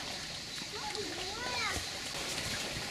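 Feet splash and slosh through shallow seawater along a rocky shoreline on the Giens peninsula, with steady close wading noise and a voice sounding over it.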